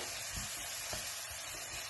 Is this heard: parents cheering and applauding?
no